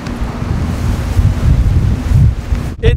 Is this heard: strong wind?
yes